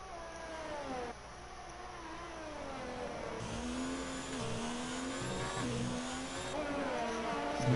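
Formula 1 race cars in a racing video game at the Italy round, engines whining and shifting pitch as they accelerate and slipstream, a steady continuous roar without speech.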